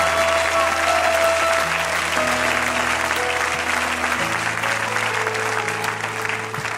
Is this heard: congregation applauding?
yes